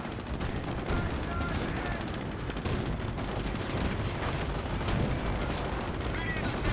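Battle noise in Company of Heroes as a Firefly tank's main gun fires amid steady gunfire and explosions, a dense, loud wash of combat with a voice talking over it.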